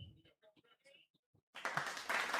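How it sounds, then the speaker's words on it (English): Applause sound effect from a soundboard at a dragster racing event bursts in at full volume after a stretch of quiet, scattered talk, holding as a dense wash of clapping to the end. "We have applause."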